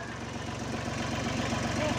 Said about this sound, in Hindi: छोटा वाला ट्रैक्टर चलाते हो